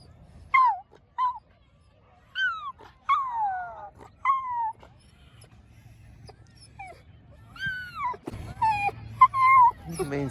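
Dog whining and whimpering in a string of high, wavering cries, repeated over several seconds close by, outdoors during a walk on a muddy oval with faint background noise.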